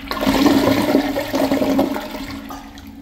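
Kohler Kathryn one-piece toilet flushing with the handle held down, a loud steady rush of water that swirls for a couple of seconds and then begins to fade.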